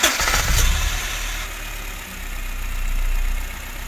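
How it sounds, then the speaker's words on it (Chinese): A car engine, treated with an anti-wear additive for oil burning and noise, cranks and fires up with a loud burst, then settles into a steady close idle with a slight swell in revs. "一起来听一下发动机着火的声音"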